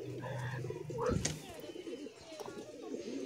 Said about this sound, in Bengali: দেখেন এদিকে কবুতর পাগলার মতন ডাক শুরু করছে, রেসার কবুতর মাক্সি।